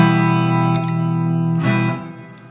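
Electric guitar through a Boss MS-3 with the boost switched on, a sustained, effect-laden chord ringing loud with a few clicks and re-strikes before fading toward the end.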